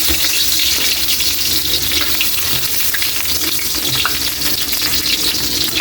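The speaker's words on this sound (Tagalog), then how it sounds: "mainit na yung kawali natin. Ilagay naman natin yung loyang dilaw." Yellow onions sizzling in a hot pan, a loud, continuous hissing crackle that stays steady and close, with no voices over it.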